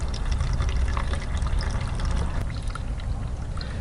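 Wort runs out of the mash tun during all-grain beer brewing, a steady pouring, splashing stream that stays constant and fairly loud, with no talk.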